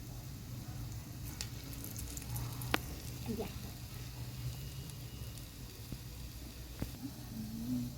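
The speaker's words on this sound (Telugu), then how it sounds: "ఇప్పుడు నూనె వేడెక్కింది. మనం ఈ ముద్దని దాంట్లో వేసుకుందాం." Dough dropped into hot oil fries with a faint, steady sizzle and occasional soft pops, low and even throughout.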